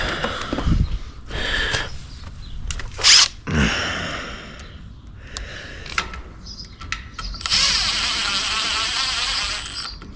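A power drill loosens the screws on a house security gate, whirring in short bursts before a longer steady high-pitched spin near the end, with light clicks and handling noises in between.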